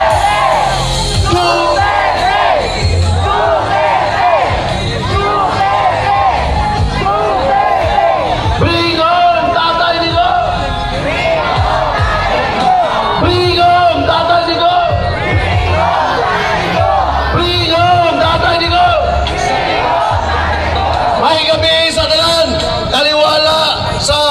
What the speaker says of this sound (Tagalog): Sigaw ng malakas